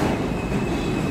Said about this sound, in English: We're about to get on the subway